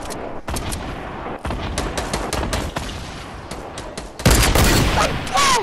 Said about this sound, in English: this is my time for the grenade launcher!